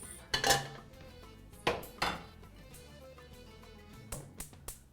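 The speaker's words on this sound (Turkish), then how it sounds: "Şimdi şu tenceremizi geri alıyoruz." A metal pot clanks and scrapes against a surface in several sharp knocks, close by, with lighter clinks of utensils between.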